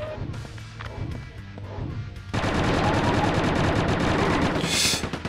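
Gunfire in Quake II on PlayStation: scattered shots at first, then a sustained rapid burst of automatic fire, loud and close, with a hissing blast near the end.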